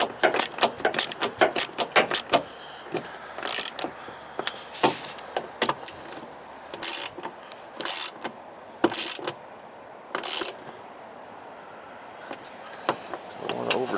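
A ratchet snugs the wiper bolts on a 1991 GMC Jimmy, giving close bursts of quick clicking strokes broken by pauses, with some talking in the workspace.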